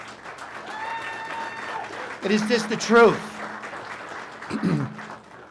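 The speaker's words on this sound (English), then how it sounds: "Everybody should applaud right now what this board has done." Applause from the audience at a town board meeting comes in bursts, briefly under and after someone speaking at the podium.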